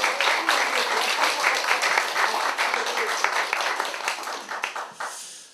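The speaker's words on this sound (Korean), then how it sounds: "여러분, 이쯤에서 박수 나와야 되는 거 아닙니까?" An audience at an outdoor political party rally claps steadily, with a few sharper individual claps standing out, before the applause thins and fades away at the end.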